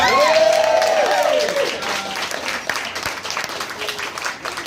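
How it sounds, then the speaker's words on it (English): A crowd bursts into steady applause, many hands clapping in a dense wash that holds for several seconds before gradually thinning. "Let's have a round of applause."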